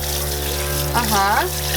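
Water runs steadily from a modern faucet in a converted school bus tiny house, a constant close hiss under a person's voice speaking over it.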